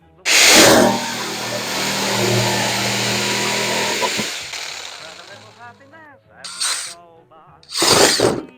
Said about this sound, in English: All right, so now we're going to drill here.